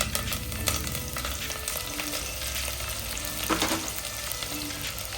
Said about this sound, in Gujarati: આદુ મરચાં લસણની પેસ્ટ નાખવાની છે। બધું સાંતળી દઈશું।